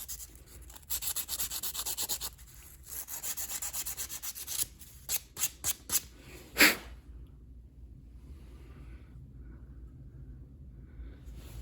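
Sandpaper rubbing and scraping against a part of an Oleo Mac BC240 strimmer, steady close abrasive strokes for several seconds, then a few sharp separate scrapes and a quiet pause.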